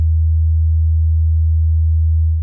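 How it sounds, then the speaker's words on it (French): A steady 80 Hz sine tone, a low, loud, continuous hum held for a couple of seconds, alone and unchanging until it fades at the end. "voici à quoi ressemble un son qui a une fréquence de 80 Hz"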